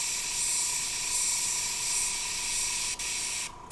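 An airbrush spraying paint with a continuous high, airy hiss held steady for several seconds, close up, with a brief click near the end and no talking.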